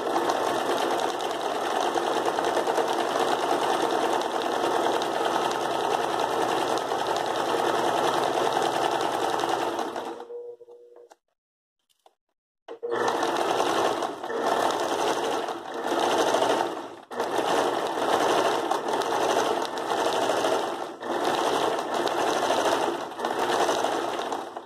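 A sewing machine stitches fabric for a floral rug, running in a loud, continuous rapid chatter that stops for about two seconds midway, then resumes and keeps going.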